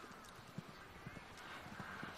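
A horse's hooves thud faintly in a regular clip-clop during a show jumping round at a modern pentathlon mixed relay, heard under crowd noise and commentary.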